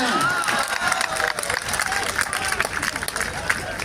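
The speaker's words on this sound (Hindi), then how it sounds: "ताली बजाओ" At a poets' gathering on a police ground in Raipur, an outdoor crowd claps and cheers in a loud, busy roar that stays steady throughout, with voices mixed into the noise.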